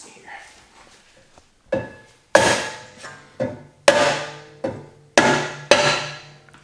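A hammer taps around a BMW brake rotor to free it from the hub during a DIY brake job, with faint knocks first and then a run of six or seven loud, ringing metallic strikes at a steady rhythm.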